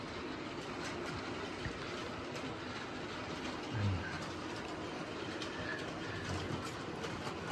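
Model railway train climbing an incline on a layout, a steady close rolling rumble with faint rhythmic wheel clicks running continuously throughout.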